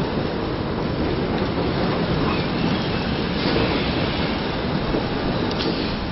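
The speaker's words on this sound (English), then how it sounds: "This whole structure rattles when that's going, doesn't it?" Loud continuous rumble and rattle of the Newport Transporter Bridge structure as its gondola moves along beneath, a dense steady roar with no talking.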